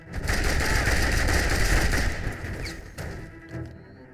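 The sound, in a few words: 50 cal machine gun fire in video game Mercenaries 2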